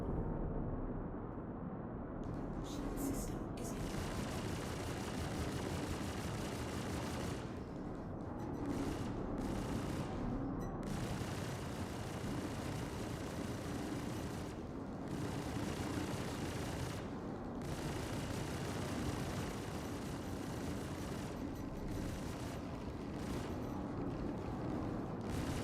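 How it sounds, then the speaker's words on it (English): Heavy incoming fire pelts the player's ship in the space game Star Citizen, a constant rumbling roar of shots and impacts that continues almost unbroken for the whole stretch, with a few brief dips. "So many shots fired at me right now, jeez."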